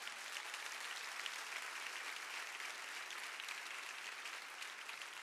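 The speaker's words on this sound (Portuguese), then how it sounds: "Pode aplaudir o Senhor." A church congregation claps continuously during a worship service, an even, sustained ripple of many hands heard from some distance, with no speech over it.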